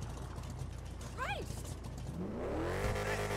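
Lamborghini Sian (2020) engine in GTA 5, building from a low background rumble into a loud, rising rev in the final second.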